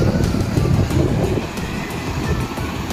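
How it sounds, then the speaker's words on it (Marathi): A large river waterfall near Mumbai pours down forcefully, making a steady, loud broadband roar of rushing water that fills the whole stretch with no voices. "इकडून पाणी येत आहे."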